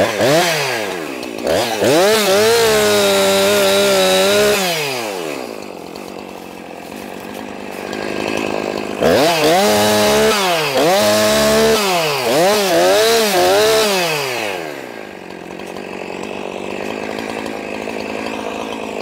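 A chainsaw cuts down a chestnut tree by a roadside, its engine loud and close as it revs up and bogs under load in two long cutting bursts, then drops toward idle at the end.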